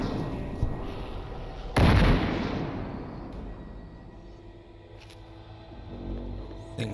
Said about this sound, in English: Just going to throw a load of grenades in there.